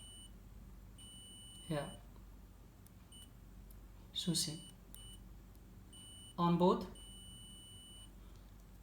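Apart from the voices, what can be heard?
multimeter continuity beep while testing mobile mic wire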